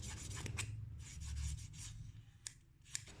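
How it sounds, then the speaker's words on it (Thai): A pencil scrapes along the edges of a blue foam pillar being built for a saloon diorama, giving soft, steady rubbing strokes up close with a couple of sharper scratches near the end. "ก็จะใช้เป็นดินสอ ขูดขูดตาม สัน มันไม่ให้มันดู คม แบบ ตั้งใจจนเกินไป"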